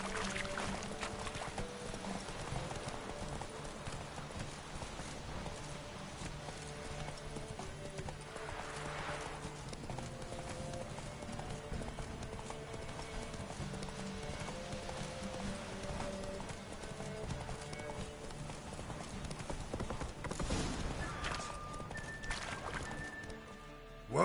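Hooves of Roach, a horse in a video game, clip-clopping in a steady galloping rhythm for the full stretch, moderately close and fairly quiet, with an occasional whinny.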